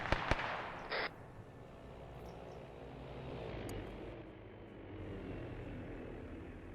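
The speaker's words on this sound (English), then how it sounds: "Where is that plane going?" An airplane in Arma 3 drones steadily as it passes, a faint broad engine rumble that swells slightly, after a couple of sharp pops at the start.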